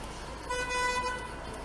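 A blue car behind on a Pacific Northwest road gives one short, fairly faint horn toot of about half a second over steady road noise.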